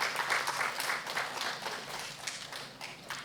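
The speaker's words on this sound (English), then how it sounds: "A round of applause, please." Audience applause at a food safety culture panel discussion, a steady patter of clapping that carries on throughout and slowly thins toward the end, moderately loud, with no talk over it.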